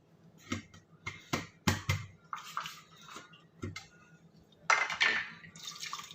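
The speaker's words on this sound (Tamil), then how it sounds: "மூணு டம்ளர் தண்ணி விட்டுக்கலாம்." Three tumblers of water splash and trickle into a pot for one-pot peanut rice in several short pours, with clinks of metal and a louder gush near the end; no one speaks.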